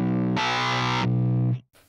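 Boss HM-2 distortion pedal starved on a 9-volt DC supply gives a thin, fizzy, buzzing guitar tone that swells brighter for a moment, then sags and chokes off into a faint crackling tail.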